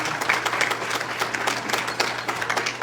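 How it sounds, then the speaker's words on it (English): Applause rises from an audience at an awards ceremony, honoring Better Business Bureau staff: many hands clapping in a steady, moderately loud patter, with a low constant hum beneath. "I really want to give a round of applause to the BBB staff, employees."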